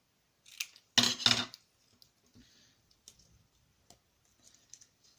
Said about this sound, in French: on va couper même tout ça